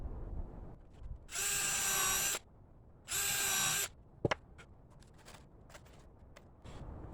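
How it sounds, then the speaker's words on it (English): A power drill whines in two bursts of about a second each, driving screws into plywood, followed by a sharp knock and soft handling noises nearby. "So I'm going to go ahead and drill these holes and put the screws in."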